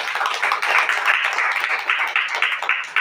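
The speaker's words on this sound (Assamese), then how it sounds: "বল আমি তালি বজাই সব ধন্যবাদ" A church congregation claps together in praise, a dense, steady, fairly loud patter of many hands that runs unbroken for a few seconds with no talking.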